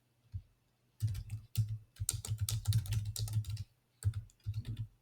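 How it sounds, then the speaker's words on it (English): Rapid keystrokes on a computer keyboard while text is typed into a code editor, dense close clicking in bursts with a brief pause, no voices. "Now we'll just type in some text."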